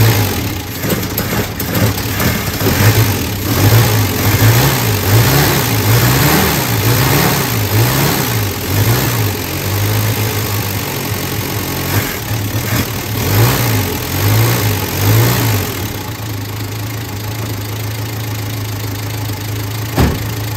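The engine of a 1967 Renault 4, abandoned for 26 years, runs loud and close, its pitch rising and falling through repeated revs before settling toward a rougher idle.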